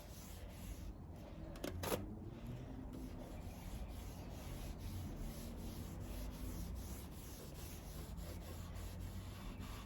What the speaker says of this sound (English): just keep buffing out in between